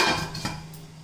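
A metal lid set onto a cooking pot while making jackfruit seed curry gives a single clear clatter with a brief ringing clink, close and alone, fading quickly into a faint hum.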